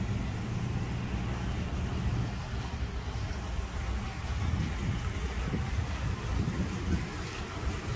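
Deep sea fishing boat heading out off Clearwater, Florida, with a steady engine drone and wind rushing across the microphone throughout, loud and continuous, with faint voices in the background.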